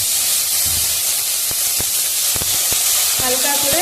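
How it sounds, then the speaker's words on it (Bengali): Capsicum frying in butter in a pan, a loud, continuous sizzle and hiss with scattered clicks of the pan and stirring near the end. "হালকা করে ক্যাপসিকামটাকে ভেজে নিতে হবে।"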